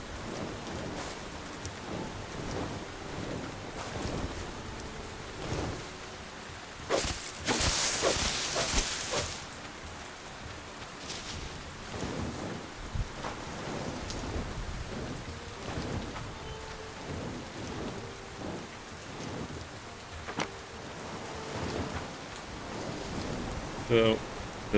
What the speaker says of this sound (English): The rain is a nice addition to the game